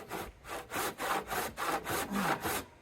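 Hand rip saw cutting wood along the grain for a driveway gate, with steady back-and-forth rasping strokes, about eight in a regular rhythm, close and fairly loud.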